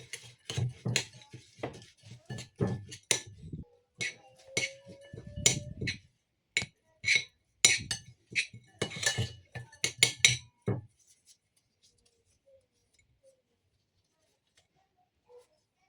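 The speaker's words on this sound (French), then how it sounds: "Donc je vais mélanger tout." Keto energy bar ingredients are stirred in a bowl with a utensil, producing irregular clinks and scraping taps in quick bursts that stop after about eleven seconds, leaving near silence.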